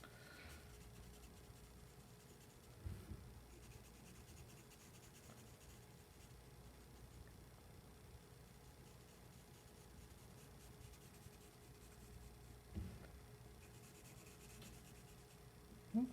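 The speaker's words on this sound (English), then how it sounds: "we're trying not to lift the pencil off of the paper as much as possible" A pencil drags steadily across paper in a long, continuous line drawing, the faint scratchy rub running almost unbroken with only brief pauses, close and quiet with no talking.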